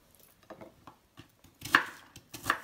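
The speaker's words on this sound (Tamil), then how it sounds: "அதையும் சின்ன பீஸாக கட் பண்ணி வச்சுக்கலாம்." A knife chops fruit into small pieces on a cutting board for a green juice: a handful of soft, irregular taps, then two sharper, louder cuts close by, with no talk.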